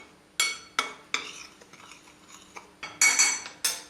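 A spoon clinks and scrapes against a bowl in a string of short, close taps while salt and white pepper seasoning gets mixed, with quiet gaps between the strokes.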